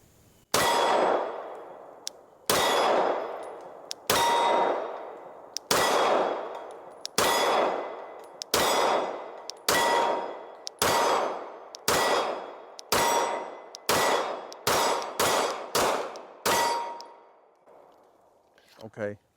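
Glock performance trigger dry-fired and reset over and over, about fifteen sharp metallic clicks that ring briefly, slow at first and then quicker toward the end, close and distinct against near silence.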